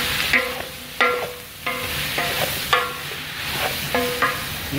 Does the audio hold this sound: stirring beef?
yes